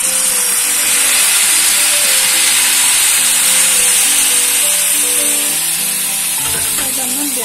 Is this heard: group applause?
no